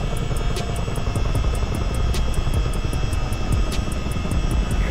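Heavy, continuous engine and rotor drone of a Miltech CH-47D Chinook tandem-rotor helicopter in Microsoft Flight Simulator 2020, loud and steady with a regular rhythmic blade beat throughout.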